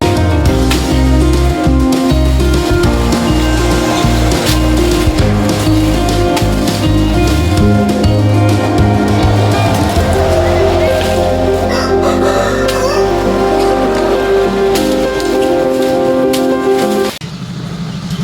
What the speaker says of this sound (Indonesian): Ini mesin buat cacah rumput, ya rumput tangkal jagung gitu.